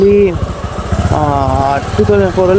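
A 2024 Bajaj 125 cc motorcycle engine runs with a steady low rumble while someone talks over it continuously, close to the microphone.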